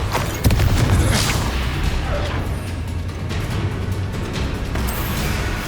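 A Confringo fire spell detonates in Hogwarts Legacy, heard as a dense, sustained booming rumble with crackling blasts that stays loud throughout, with no clear gaps.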